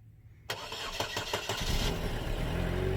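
A Chevy Sonic LT engine cold-starts with a sharp crank catching abruptly, then revving briefly before settling into a steady, fairly loud idle.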